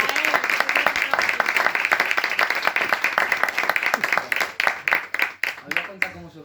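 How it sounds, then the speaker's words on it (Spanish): Audience applause at a book presentation of a popular-science book, a dense burst of many hands clapping that thins into scattered individual claps toward the end, with a faint voice underneath. "y sobre todo a Bea, que este aplauso es para ti"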